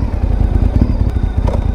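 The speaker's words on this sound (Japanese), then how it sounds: "一応後ろ見てエンジンスタート。" A motorcycle engine starts and runs close by with a loud, rapid low putter and a few clattery ticks on a riding course; no one speaks.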